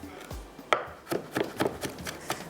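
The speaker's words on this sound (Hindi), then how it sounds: "टमाटर इसके अंदर इस तरह से बारीक बारीक कर लीजिएगा आप।" Tomatoes being finely chopped with a knife on a board in a home kitchen, a series of irregular sharp taps close up, with no talking.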